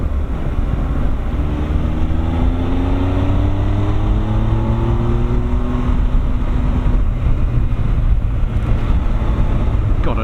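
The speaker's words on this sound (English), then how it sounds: "God, I do love this engine though." Honda Africa Twin motorcycle engine running steadily, its rumble rising and falling in pitch as it accelerates and eases off, loud and close with wind buffeting the microphone.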